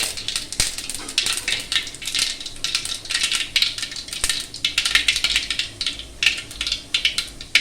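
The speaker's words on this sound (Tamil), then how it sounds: "கடுகு பொரிஞ்சாக்கல" Mustard seeds spluttering and popping in hot oil in a home kitchen pan while a Tamil dal rasam is being made, a dense, continuous crackle of sharp pops, close and steady, with no voices.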